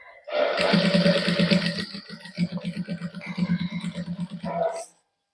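A sewing machine stitches lace onto a cloth strip for a sleeve design. A loud, close mechanical whir runs first, then breaks into fast rhythmic pulsing bursts before stopping abruptly near the end.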